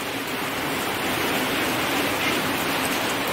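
Heavy rain pours down steadily after a hot, sunny day, a dense continuous roar of water filling the whole stretch at close range with no voices.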